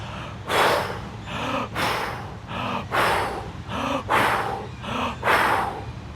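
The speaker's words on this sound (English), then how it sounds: "This is the blow the candle recovery breathing, the method taught in the Molchanovs system today and the one that top athletes use after their dives." Freediver's blow-the-candle recovery breathing: a steady series of forceful, rhythmic inhales and exhales, about five cycles with no pause between them, close and clear with no talking.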